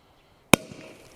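A single sharp bang from a retro JC04 or PIRAT firecracker, loud and close, followed by a brief fading rumble and crackle.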